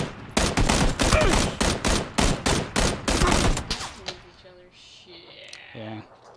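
Gunfire in PlayerUnknown's Battlegrounds, a fast sequence of about a dozen loud, evenly spaced shots, followed by quieter game sounds and beeps as the shooting stops.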